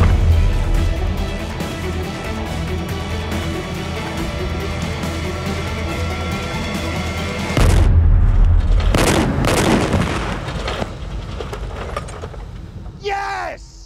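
Heavy guns firing in a full-scale battleships game, a long booming rumble under loud shouting, then a fresh heavy blast followed by sharp crashes and a rising whistle near the end.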